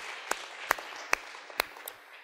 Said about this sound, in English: that's worth clapping about